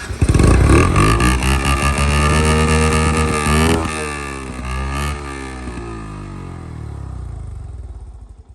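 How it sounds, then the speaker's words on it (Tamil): A Yamaha FZ motorcycle fitted with an aftermarket silencer starts and revs hard, its loud, close exhaust rising and falling through several throttle blips before settling into a steady idle. "சைலன்சஸ் டெஃபினட்டாக நான் ஸ்டார்ட் பண்ணி காட்டுறேன் எப்படி இருக்கும்."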